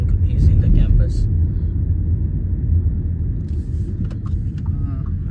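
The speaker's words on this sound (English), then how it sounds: "I will park the car over here." A car drives through a university campus in Fredericton, Canada, before parking, giving a steady low engine and road rumble close up with a person talking over it.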